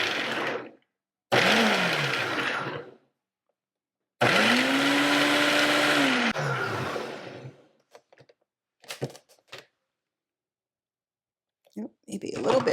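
A food processor blitzes about a cup of minced garlic scapes for relish in two long, loud whirring bursts, each a few seconds long, followed by scattered short clicks and pulses.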